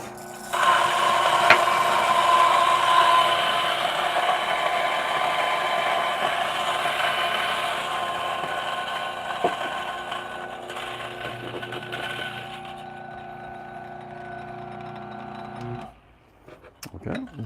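DF64 coffee grinder fitted with Casper flat burrs grinding coffee beans, a loud, steady whirring drone that runs about fifteen seconds and then cuts off abruptly.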